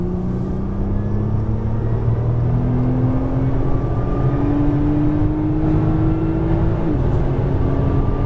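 A Nissan GT-R accelerates on a racetrack, its engine note climbing steadily in pitch with a brief drop near the end, a loud, continuous drone with a rumbling undertone and no speech.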